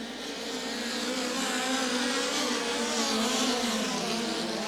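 A field of five POWRi midget race cars roars down the back straightaway at Federated Auto Parts Raceway at I-55, engines blaring in a steady, layered drone at close range with rising and falling pitch, no talk heard.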